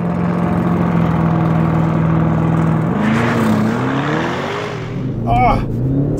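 Audi RS7 accelerating hard from a drag race start, with a steady loud engine drone that climbs in pitch as it pulls through the gears, and a voice talking over it near the end.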